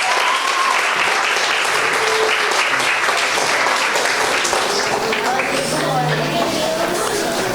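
Audience at a mental health seminar breaking into sustained applause, loud dense clapping filling the room throughout, with some voices and chatter mixed underneath.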